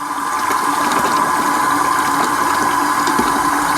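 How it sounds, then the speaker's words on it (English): Water pours steadily into bottles during home beer brewing with a continuous rushing, gurgling sound, close and fairly loud. "Maybe we'll add a little more water right now."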